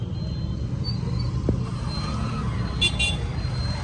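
Busy roadway traffic at a crowded junction, engines rumbling steadily close by, with a couple of short car horn toots near the end and faint voices in the background.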